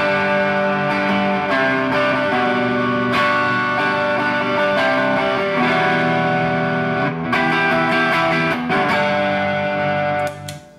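Electric guitar played through Klon Centaur and RYRA Klone overdrive pedals turned up, giving sustained driven chords that ring continuously and loudly before fading at the end.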